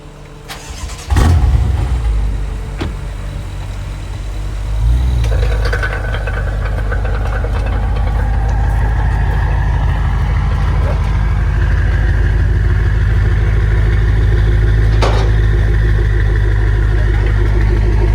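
A BMW M5 engine fires with a sharp catch, then settles into a steady, deep idle rumble that holds, fairly loud and close, for the rest of the stretch.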